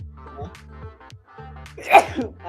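A single sharp sneeze bursts out near the mic, set among quieter background talk.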